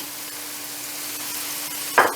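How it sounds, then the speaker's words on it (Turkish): Bell peppers, green peppers and onions sauté in a pot with a steady hiss and sizzle, ending in a brief louder clatter of stirring. "şimdi tüm malzemelerimizi güzelce kavuralım arkadaşlar. Soteleyelim."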